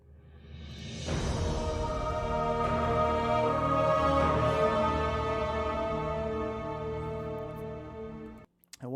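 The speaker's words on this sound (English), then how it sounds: "We got the Gaul motif." The Gaul motif from the Destiny 2 game score swells in as a sustained orchestral chord with dense layered tones, holding steady and loud for several seconds before cutting off abruptly near the end.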